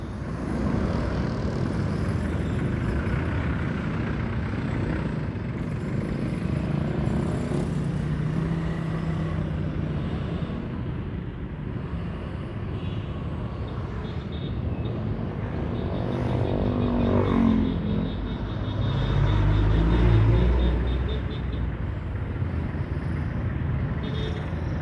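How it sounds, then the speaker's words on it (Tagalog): Dense road traffic on a ride from Bagumbong, Caloocan toward Bulacan, with many motorcycles rumbling steadily alongside cars and trucks, a continuous broadband engine roar that swells briefly as vehicles pass close. "Yan guys, daming motor."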